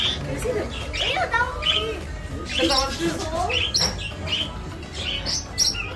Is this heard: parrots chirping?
yes